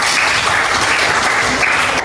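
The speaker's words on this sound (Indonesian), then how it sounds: "Kasih tepuk tangan buat kita." Crowd applause at a church gathering, a dense, even wash of clapping that holds steady throughout the short stretch with no voices over it.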